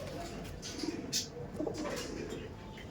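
A pair of Giribaj pigeons gives soft, low cooing calls in a few short bursts over a steady background hum, fairly close but not loud.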